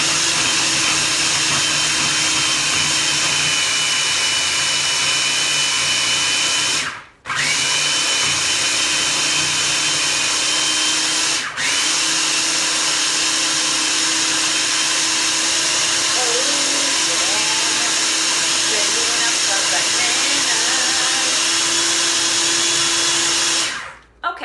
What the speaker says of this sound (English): And we are gonna blend this up